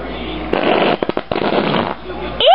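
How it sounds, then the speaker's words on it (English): A short burst of loud, sputtering flatulent noise with a few choppy pops in the middle, surrounded by excited voices talking over it. "It's a whoopee cushion."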